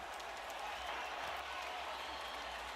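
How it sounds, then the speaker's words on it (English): A football stadium crowd roars and applauds after a touchdown in a BYU versus Texas Tech Big 12 Championship game, a dense, sustained wash of cheering heard at a distance. "you hear the crowd reacting"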